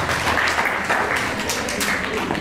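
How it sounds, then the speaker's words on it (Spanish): A crowd at a family celebration claps for a young man, a steady dense wash of applause at moderate loudness, with faint voices underneath. "un fuerte aplauso para el chico"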